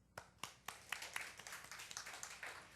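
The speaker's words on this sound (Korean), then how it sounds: "박수." A church congregation claps during a Sunday worship service. A few sharp, separate claps open the sound, then it swells into full applause from many hands at a faint, distant level.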